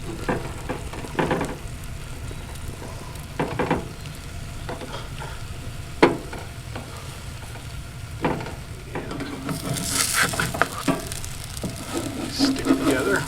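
Sausage and French toast frying on a griddle at a campground, a continuous close sizzle with spatula scrapes and taps as pieces are flipped, the sizzle swelling louder near the end.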